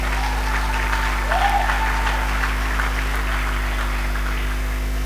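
An audience at a university inaugural lecture applauds to honour a Nigerian football icon, a steady, moderately loud round of clapping over a constant low electrical hum, with a faint voice briefly heard.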